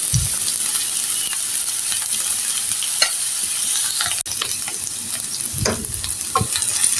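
Pointed gourd and potato frying in a pan with a steady sizzle, occasional scraping and clinks of a spatula stirring, close up with no voices.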